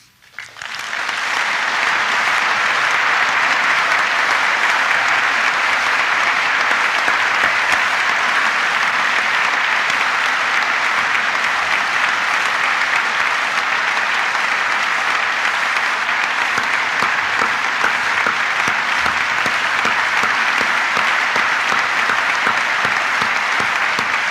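A lecture audience breaks into loud, sustained applause for Charles Kuralt, rising quickly to a thick, even roar of clapping that holds steady for over twenty seconds.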